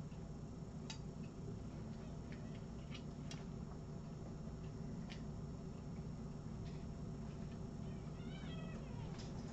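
A faint cat meow rises near the end over a steady background hum, with a few soft ticks earlier in the clip.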